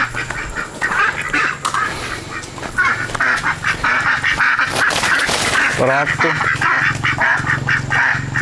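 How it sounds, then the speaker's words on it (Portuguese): Ducks and pheasants on a small farm quack and honk loudly and continuously at close range while a person speaks briefly among the birds. "São uns patos muito bonitos e a gente precisa reproduzir esses patos"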